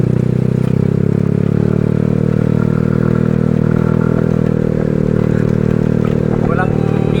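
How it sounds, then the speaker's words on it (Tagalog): A motorcycle engine drones loud and close for several seconds on a rural highland road through cornfields in Tigbao, Ligao City, Albay, with a rattling clatter on top. "Walang ibang dumadaan dito kundi ano, mga motor lang. Pakunti-kunting motor."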